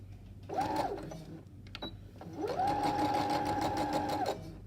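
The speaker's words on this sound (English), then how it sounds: "So I'm going to show you how to stitch the pocket in place." A sewing machine stitches a pocket onto a gathered skirt, running in one short burst, pausing briefly, then buzzing steadily for about two seconds at close range with no talk.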